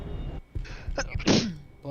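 A single person sneezes once, a sharp breathy burst heard close by amid a quiet background of video game sound.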